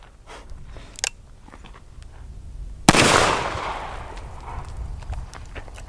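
A single sharp, loud blast from a Smith & Wesson 629 .44 Magnum revolver fired at steel targets outdoors, followed by a lingering rumbling echo, with a fainter earlier crack about two seconds before.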